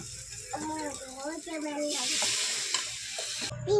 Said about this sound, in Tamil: அம்மே அடுத்து தோசை ஊற்றலாமா